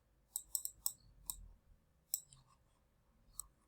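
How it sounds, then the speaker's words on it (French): A computer mouse clicks several times in quick, uneven bursts, sharp and close but quiet against a near-silent room. "je prends l'astéroïde et je clique sur OK"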